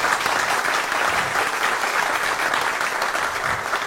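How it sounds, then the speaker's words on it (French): A full audience applauds a high school team at the close of a points-scored quiz match, a thick, even roar of clapping sustained at a loud level throughout. "Je vous demande de les applaudir."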